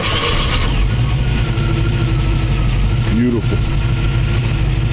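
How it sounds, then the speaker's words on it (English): A 1932 Ford three-window coupe with a V8 idles steadily after starting, a loud low rumble running throughout, with a person speaking briefly over it. "It starts right up. I don't even have to touch the gas on this one."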